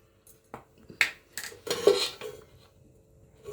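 Matar paneer is served from a pot with a metal spoon, giving a handful of close, bright clinks and scrapes against the pot and dishes spread over a few seconds.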